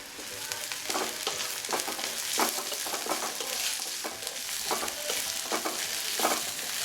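Chopped garlic, ginger and dried chili fry in hot oil for nihari, giving a steady sizzle broken by repeated scraping stirs at a fairly even rhythm, close and alone with no talking.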